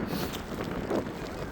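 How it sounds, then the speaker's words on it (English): Wind during a snowstorm roars across the microphone in a dense, steady rush, close and buffeting, with no clear speech. "this is snowstorm, just like a snowstorm, so windy and snowing"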